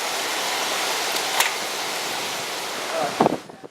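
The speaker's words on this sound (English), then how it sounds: "It's raining and windy." Rain and wind in Western Australia give a constant broad roar, broken by a few sharp gusts or buffeting bumps near the microphone toward the end.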